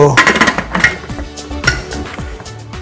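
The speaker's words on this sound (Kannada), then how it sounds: "ಇದಕ್ಕೆ ನಾವು ಮುಚ್ಚಲ ಮುಚ್ಚಿಬಿಟ್ಟು" A metal lid set onto a cooking pot of boiling dal produces several close, loud clanks and rattles in quick succession, then quieter scraping and settling knocks.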